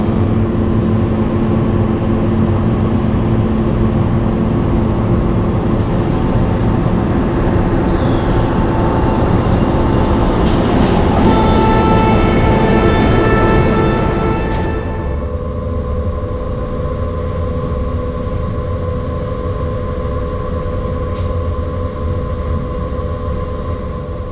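A passenger train rumbles and clatters loudly nearby as it arrives at a station, its steady roar rising and then easing as it slows, with faint squeals over the constant noise.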